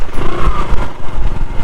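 A motorbike engine rumbles steadily while riding on a road, one of two bikes carrying four people between Mongla and a nearby destination, loud and close with uneven low throbbing throughout.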